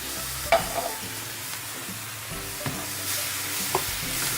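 Basic green lentils are stirred in a pan, a spoon scraping and knocking against the pan in a few distinct strokes over a soft sizzle, close and fairly loud, with no voices.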